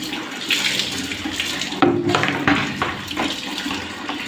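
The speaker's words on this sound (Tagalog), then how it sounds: "Banlawan ako ang buhok. Ayan o, banlawan ako tubig." Water runs steadily from a tap while hair is rinsed, a close, rushing splash whose texture shifts as the stream hits hair and skin, with no talking.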